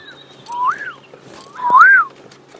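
A little canary calls on an early-morning African safari drive, giving two separate rising-then-falling whistled notes a second apart, moderately close over a quiet bush background.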